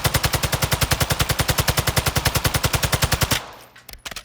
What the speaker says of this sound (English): So I'm just going to be firing and show you guys how good this gun is even without helping